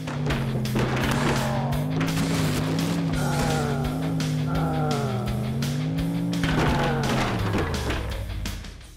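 A car engine in the video game Earn to Die 2 drones loud and steady, its pitch rising and falling with shifting revs as it races along, with intermittent crunching impacts.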